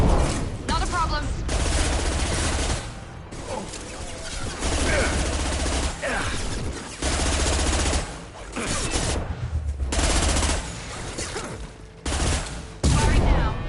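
Gunfire in Mass Effect 2 comes as repeated bursts of rapid automatic fire, loud and close, separated by brief pauses, with voices talking between the volleys.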